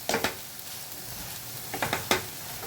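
Mashed roasted brinjal being sautéed in a pan for bharit, a few quick scraping stirs of a spatula over a soft, steady sizzle, close and fairly quiet, with no talking.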